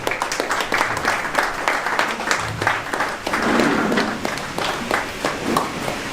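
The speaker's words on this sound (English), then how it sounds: "Please keep clapping, don't be tired." An audience at an internship induction ceremony applauds continuously, many hands clapping in a dense, crackling patter that stays fairly loud and steady, with a brief swell midway and no clear talk over it.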